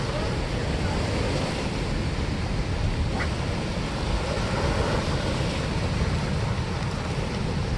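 Steady, loud rushing water roars without a break at a river spillway at night, a dense broadband wash with no talk over it.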